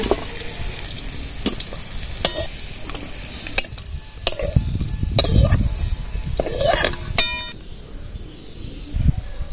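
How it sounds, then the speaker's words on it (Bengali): Bitter gourd and potato pieces frying in a pan, an uneven mix of spatula scrapes and clicks over crackling oil, with a louder rumbling burst of sizzle in the middle and occasional sharp clinks, close and moderately loud. "ইচ্ছে আলু এইভাবে ভেজে নিতে হবে"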